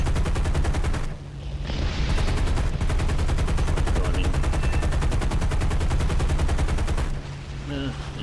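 Long sustained bursts of .50 caliber machine gun fire from a P-51 Mustang fighter in an arcade air-combat game, a loud continuous rattle broken by short pauses near the start and end.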